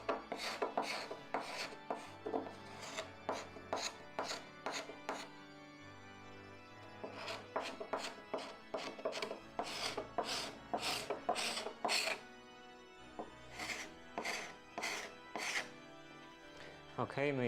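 Hand scrapers rasping over old paint on a wooden door, in bursts of quick repeated strokes separated by short pauses, close and fairly loud with no talking.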